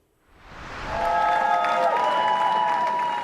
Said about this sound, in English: As jubilant Labour supporters cheered Sir Keir Starmer into number 10